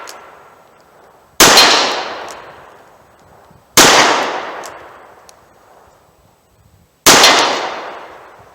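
Three loud .38 Special revolver shots firing 170-grain lead Keith semi-wadcutter bullets outdoors, each a sharp crack trailing into a long decaying echo, spaced roughly evenly with no voices between.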